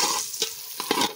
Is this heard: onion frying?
yes